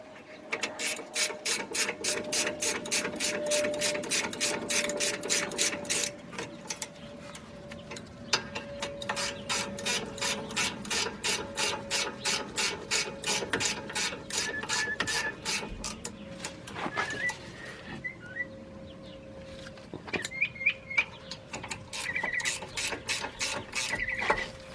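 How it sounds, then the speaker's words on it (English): Ratchet wrench tightening the brake caliper bolts on a 2011 Nissan Quest's rear brakes, a loud, fast steady clicking in long repeated bursts with brief pauses, close by and alone with no talking. "now let's tighten up the caliper bolts."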